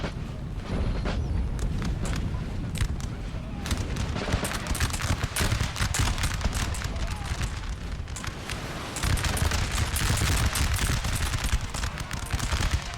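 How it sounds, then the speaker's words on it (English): Musket volleys crackle in a Napoleon: Total War tournament battle, a dense, continuous rattle of many shots layered together, loud and sustained throughout, with a commentator's voice faintly underneath. "Not a bad volley, but not the best either."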